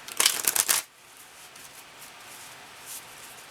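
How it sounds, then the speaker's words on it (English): Deck of cat-themed oracle cards being shuffled, a burst of close, rapid papery riffling and flicking for under a second, followed by quiet room tone with a faint rustle later. "these cat cards just don't like being shuffled much"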